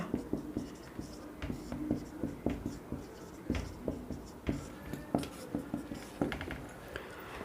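Pen writing on a paper maths worksheet, close and steady, with short scratchy strokes and light taps in an irregular rhythm and no talking.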